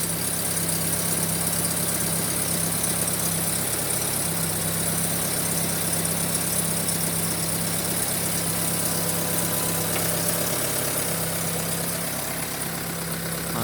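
A Proton Exzora car engine idles steadily after an intake and exhaust valve spring repair, with a smooth, even hum and light vibration that runs close and unbroken throughout.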